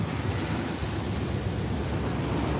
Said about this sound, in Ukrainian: Це шум моря, хай більше.